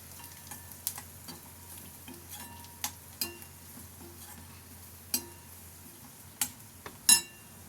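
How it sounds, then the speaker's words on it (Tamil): Kohlrabi kurma masala sautéing with chili powder in a pan, a soft continuous sizzle broken by a handful of sharp, scattered clicks and taps of the spatula against the metal. "மிளகாத்தூள், நல்லா வதக்கிக்கலாம்"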